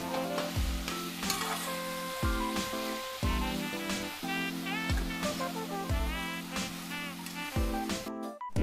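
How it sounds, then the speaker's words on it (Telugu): Gongura leaves fry in oil for Andhra-style chutney, a constant sizzle broken by repeated scraping stirs of a spoon against the pan, close and loud with no one talking. "ఇలా నూనేసి మగ్గిస్తున్నాం కదా, ఇది ఇలా కలుపుతూ ఉండాలి."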